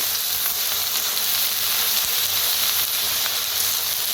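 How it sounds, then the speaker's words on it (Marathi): Methi (fenugreek) leaves stirred into vegetables already frying in a pan give off a steady, close sizzle and hiss with faint scraping, and no one speaks. "त्याच्यातच टाकूया मेथी तर भाजी आपण मिक्स करून घेऊया"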